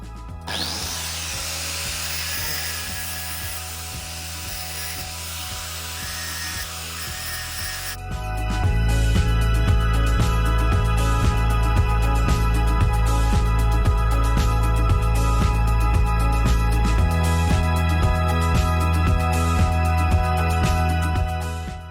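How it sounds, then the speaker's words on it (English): An angle grinder whines steadily against metal, cleaning off burrs, growing louder and harsher partway through as it bites in, running continuously with no voices. "I'm just going to get the grinder and just give it a bit of a clean"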